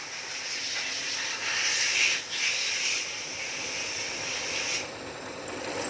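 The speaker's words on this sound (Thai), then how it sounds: "เจาะเข้าไปเลยนะครับ" A steady high-pitched grinding hiss of a drill boring into the metal engine casing of a Honda Wave 125 motorcycle, continuous for several seconds with a brief surge midway before cutting off near the end.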